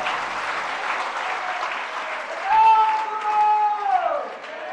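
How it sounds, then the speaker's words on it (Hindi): Applause from a sermon audience fills the whole stretch, dense and steady, with a tonal whistle or feedback line rising over it near the end. "अब मैं इन तीन बातों में से बहुत तालियां बज गई"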